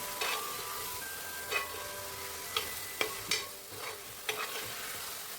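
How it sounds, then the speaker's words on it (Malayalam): Cooked tapioca stirred and roasted in ghee for a tapioca payasam, giving a soft continuous sizzle broken by a handful of sharp spoon scrapes and taps against the pan, close up and without any talk. "ഇനി ഇതിലേക്ക് വേവിച്ച് വെച്ചിരിക്കുന്ന കപ്പ ഇട്ട് കൊടുക്കാം ആ നെയ്ക്കാക്കിയിട്ടൊന്ന് വരട്ടിയെടുക്കണം"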